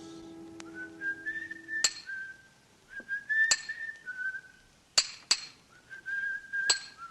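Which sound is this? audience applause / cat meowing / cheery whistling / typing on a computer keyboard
cheery whistling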